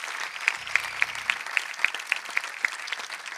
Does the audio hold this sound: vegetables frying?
no